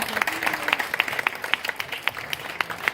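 An audience at a stand-up comedy show at Sky Stage breaks into applause: a dense, steady wash of many hands clapping with sharper individual claps popping through, fairly close and lively.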